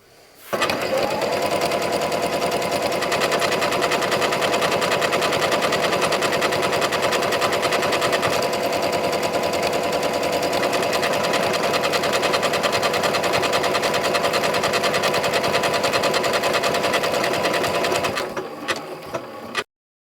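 A Continental M7 Professional sewing machine runs continuously while stitching a buttonhole, a fast, even mechanical whirring hum at steady loudness for about seventeen seconds before stopping abruptly.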